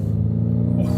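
Ford Mustang Mach-E GT electric SUV accelerating hard in Unbridled mode, a steady low hum and road rumble rising under the drive, heard from inside the cabin with no talk.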